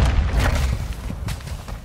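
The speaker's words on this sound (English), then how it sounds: "Launched a cruise missile." Cruise missile launch in a tactical shooter video game: a loud, deep booming rush with a thump near the start, then a sustained rumbling roar that eases slightly over about two seconds, with no talk.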